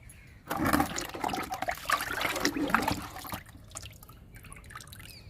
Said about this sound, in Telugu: మూడవ మునగ మొక్కకు కూడా ఇచ్చేద్దాము కిచెన్ వేస్ట్ లిక్విడ్ని.